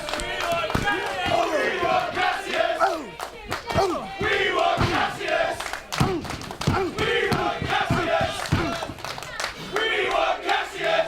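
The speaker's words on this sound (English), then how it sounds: "And the crowd just calling for someone to aid Rocky Mac" Wrestling crowd at a beach championship event chanting and shouting in rhythmic waves during the match, a loud, steady roar of many voices with repeated chant phrases.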